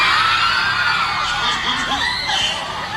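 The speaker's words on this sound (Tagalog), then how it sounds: "isang Sigawan yung mga tao guys. Hiyawan." A big concert crowd screams and cheers for the singer, a dense, loud wall of shrieks and whoops that carries on throughout and swells in places.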